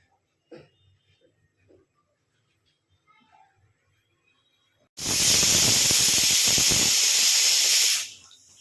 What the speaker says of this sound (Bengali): তো এখানে আমি হচ্ছে তোমার 2টো সিটি দেবো আলুটা সেদ্ধ হওয়ার জন্য